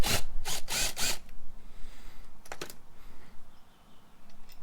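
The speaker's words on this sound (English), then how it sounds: "So I'm just going to undo this 13mm nut here using an impact wrench." An impact wrench undoing a 13mm nut on a Stihl chainsaw fires in a loud, close, rattling burst of hammering, then two short bursts follow. Faint background noise sits between them.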